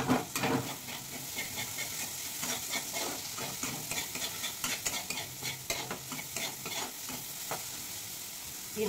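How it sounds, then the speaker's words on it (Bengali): Spice paste with chili powder fries in a pan while being stirred, giving a steady close sizzle broken by repeated scraping and clinking strokes of the spoon. "মশলা থেকে তেল ছেড়ে দিয়েছে, মশলাটা ভালোভাবে ভাজা কষানো হয়ে গেছে"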